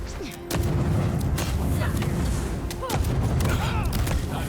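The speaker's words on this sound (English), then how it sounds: "Grenade." A grenade blast in the fantasy game Avowed sets off a loud, sustained rumbling roar that fills the scene for several seconds and rises again near the end.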